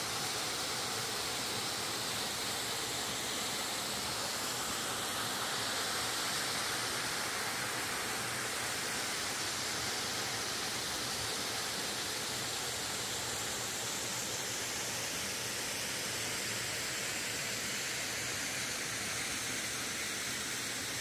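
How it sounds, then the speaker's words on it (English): Waterfall at Galvin's Gorge, a swimming-hole gorge in outback Australia, pours with a steady, dense roar of falling water that stays constant and fairly loud throughout, with no voices over it. "And the waterfall."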